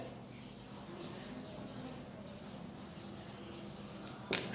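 Chalk or marker writing out a math problem for a lecture on singularities, a soft continuous scratching that runs steadily throughout, with one brief louder tap near the end.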